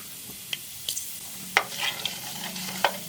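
Fenugreek, mustard seeds and urad dal fry in hot oil for a tempering, giving a soft steady sizzle broken by a few sharp pops and clicks of a spoon stirring the pan.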